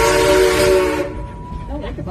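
Steam train whistle at Silver Dollar City blowing one loud, close, sustained toot that cuts off abruptly, followed by faint voices and background noise.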